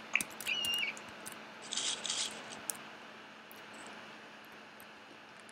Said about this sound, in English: That's a big bird.